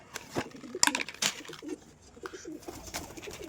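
Pigeons at a home loft giving a few soft coos amid light fluttering and pattering, quiet and close, with faint background sounds.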